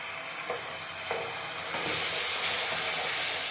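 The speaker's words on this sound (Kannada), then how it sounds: "ಅವರೆಕಾಳು ಸ್ವಲ್ಪ ಫ್ರೈ ಆಗಿದೆ ಈಗ ಟೊಮೊಟೊ ಹಾಕೊಳ್ಳೋಣ" Avarekaalu beans with freshly added chopped tomato fry in a pan with a steady soft sizzle, broken by a few light clinks and stirring scrapes, close and fairly quiet.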